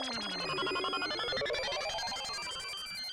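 A mobile phone ringtone rings loudly in a classroom, a dense, continuous electronic melody with sweeping tonal patterns that plays without pause and no voices over it.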